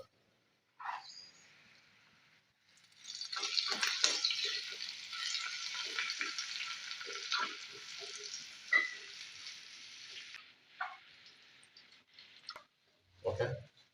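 Shallots and curry leaves frying in hot oil, a burst of sizzling that swells as leaves go in and crackles on for several seconds, then fades, with a brief clatter at the end.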